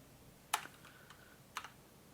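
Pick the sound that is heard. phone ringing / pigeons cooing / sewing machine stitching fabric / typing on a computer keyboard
typing on a computer keyboard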